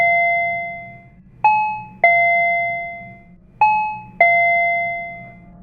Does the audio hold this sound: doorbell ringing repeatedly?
yes